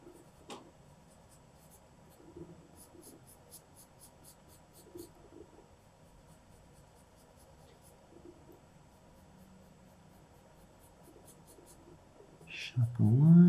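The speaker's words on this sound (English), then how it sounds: "as the pencil is getting blunt on the edges, I'm rotating it around to keep going to the sharper bits" A pencil drawing on paper, with the blunting lead rotated to sharper edges: soft, steady scratching strokes run close and quiet throughout, ending in a louder bump and rustle.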